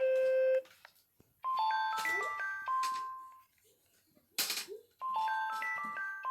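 Gabby's Dollhouse toy phone plays a bright electronic calling melody of stacked beeping tones in short bursts, with brief breathy noise bursts between the phrases and no voices.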